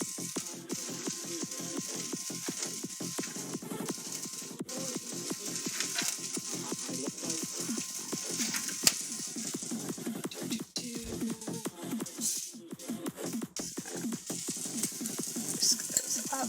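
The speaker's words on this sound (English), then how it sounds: "Give that a bit of a stir just to make sure that those are all nicely incorporated." Melted ingredients are stirred in a pan, giving a steady, dense sizzle and scraping with scattered clicks throughout, heard alone without talk.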